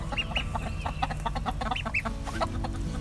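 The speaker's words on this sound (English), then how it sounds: "the big chickens are not really liking this. They're all having a chicken meeting about it." Backyard homestead chickens cluck and chatter in a flock, reacting to newly added ducks and a goose; steady overlapping clucks and a few higher squawks, close and continuous.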